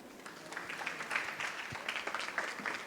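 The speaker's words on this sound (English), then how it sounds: "Kindly give a claps for all the students who performed now." Audience applause for student performers at a theatre festival, a continuous patter of many hands clapping, moderately soft and spread through the hall.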